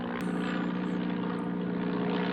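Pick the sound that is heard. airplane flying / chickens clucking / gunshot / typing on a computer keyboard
airplane flying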